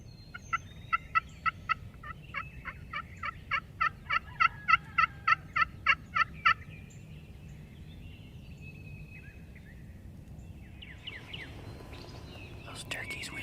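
A series of about a dozen rapid, rattling wild turkey gobbles rings out at moderate distance, then fades into quiet outdoor ambience with faint birdsong.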